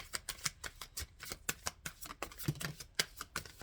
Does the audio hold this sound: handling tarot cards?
yes